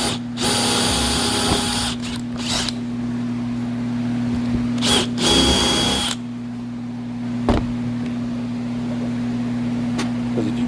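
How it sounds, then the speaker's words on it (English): A power drill whirs loudly in several bursts, spinning up and stopping while drilling into a Formica countertop, then quiets to a lower hum with faint clicks. "That's where I'm gonna drill my hole."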